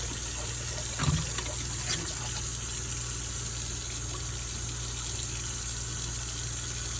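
Tap water runs steadily into a sink at an outdoor garden wash station while salad greens are rinsed, a constant close gush with a brief clunk near the start.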